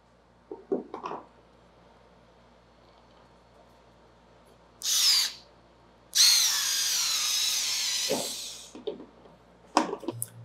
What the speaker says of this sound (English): now it's for me to mount all these screws underneath the television for it to be able to stand